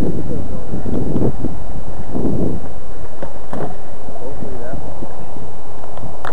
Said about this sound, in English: Really too windy to be flying any of them